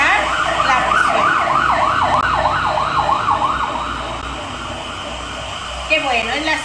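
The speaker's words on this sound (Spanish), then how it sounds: "es la sirena que está controlando a ver si todo el mundo está en su casa" An emergency siren checking that residents stay home wails outside, loud and close, its pitch sweeping up and down in a fast, regular cycle before fading. Brief talk follows near the end.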